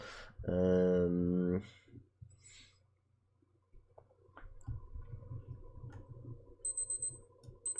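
A household alarm beeps loudly in a short burst, followed by faint clicks, shuffling and a low rumble, then quick high repeated electronic beeps near the end.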